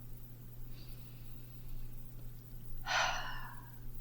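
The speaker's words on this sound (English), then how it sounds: "Take a deep breath in and a deep breath out." A single deep breath drawn in and let out, soft and close, with a faint inhale followed by a brief louder exhale over a low steady hum.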